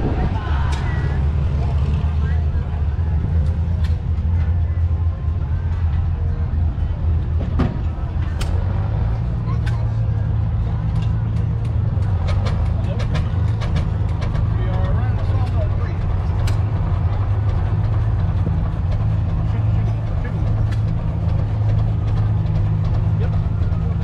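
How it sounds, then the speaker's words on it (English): Tractor engine running steadily to power a Chase Turbine shingle mill, made in Orange, Massachusetts: a continuous low rumble with a slight shift in pitch partway through, and scattered clicks and clatter over it. "we'll get this tractor fired up and we'll show you how this mill works"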